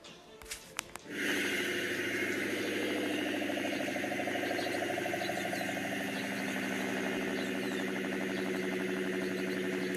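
A 2003 Mustang SVT Cobra with a Bassani exhaust fires up after a brief rustle and settles into a steady, loud, rumbling idle parked outside a hotel in the morning.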